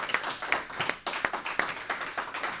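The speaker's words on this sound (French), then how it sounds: "Acclamons pour le Seigneur." A church congregation claps along in a fairly quick, steady rhythm, a few hands at moderate distance with sharp, even beats and no other sound over them.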